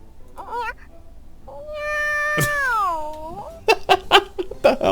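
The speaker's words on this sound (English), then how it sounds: "Oh. It's just a cat, huh?" A cat gives one long, drawn-out meow in the middle, loud and close, after a brief chirp. Quick bursts of voice and breath follow at the end.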